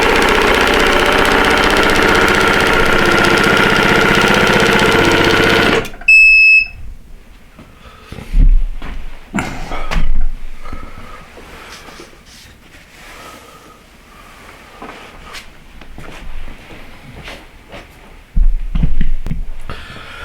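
A computerized quilting machine stitches a curling poinsettia tree skirt. A loud steady mechanical hum cuts off abruptly, followed by a series of irregular knocks, thumps and clicks from the machine, with a sharp high beep near the start.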